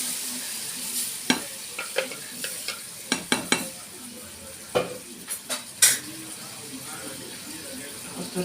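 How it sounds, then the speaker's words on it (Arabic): Tomatoes go into a pan with a spoonful of vinegar while making Egyptian fatta, with soft sizzling under repeated sharp clinks and scrapes of a utensil against the pan, close by and irregular. "حطينا معلقة الخل، ننزل بالطماطم."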